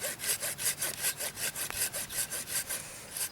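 A cheap dollar-store folding hand saw cuts through wood in steady back-and-forth strokes, about a dozen rasping passes in quick rhythm, fairly close and moderately loud with no talking.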